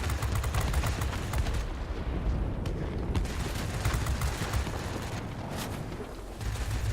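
Sustained 20 mm cannon fire from a Spitfire in World of Warplanes, a loud, continuous rattling burst mixed with engine roar that holds almost unbroken throughout, with no voice over it.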